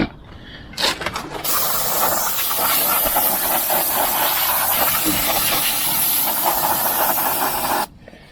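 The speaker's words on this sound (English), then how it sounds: "I did it with a Brillo pad and some brake clean" Brake cleaner sprays from an aerosol can onto drum brake parts of a 1996 Ford Ranger, a loud, close, steady hiss lasting several seconds after a few short bursts, then cutting off abruptly, with no voices.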